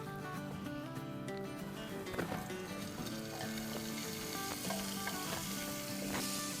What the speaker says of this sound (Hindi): तो यहाँ मैं हल्का सा बिल्कुल 1 टीस्पून ऑयल डाल रही हूँ और थोड़े से चिकन को रोस्ट कर लेंगे